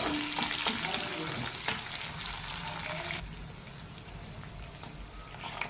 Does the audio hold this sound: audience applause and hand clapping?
no